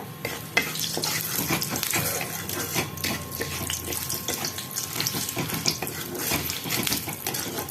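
Whole garam masala and bay leaves sizzle in hot oil in a pan, a steady, loud, dense crackling hiss that carries on without a break from start to finish.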